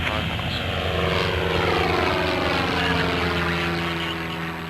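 A Piper Cadet light propeller aircraft takes off at full power, its loud steady engine drone and propeller whine filling the clip while a voice talks over it.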